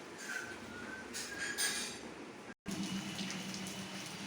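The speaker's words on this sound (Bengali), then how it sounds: "অঝরে বৃষ্টি হয়েই চলেছে" Heavy rain falls steadily in a dense, continuous hiss, broad and even throughout, with a brief dropout near the middle before the downpour resumes.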